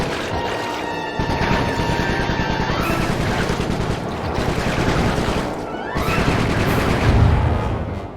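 Rapid bursts of gunfire from Bentley in the Sly Trilogy video game rattle out in dense volleys, pausing briefly near the start and again around the sixth second before resuming, loud and close with a heavy boom near the end.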